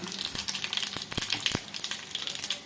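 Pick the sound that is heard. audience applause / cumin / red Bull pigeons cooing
cumin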